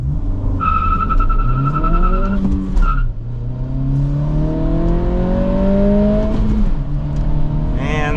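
A 2023 Acura Integra A-Spec with a manual gearbox accelerating from 0 to 60, its engine note rising steadily through the gears with a brief dip at a shift, loud and close.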